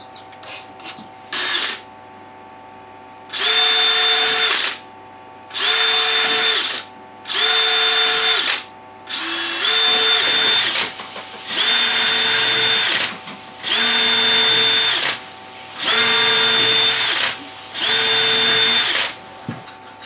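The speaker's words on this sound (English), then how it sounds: "we're going to drill a lot of small holes in them" A power drill drilling many small holes in cheese moulds whirs in repeated short bursts, about eight runs of a couple seconds each separated by brief pauses, loud and close.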